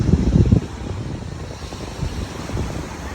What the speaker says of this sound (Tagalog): malakas yung hangin ngayong hapon, sarap ng hangin